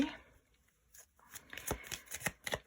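Tarot cards being shuffled close by, with quiet handling first and then a series of quick riffling flicks in a loose rhythm.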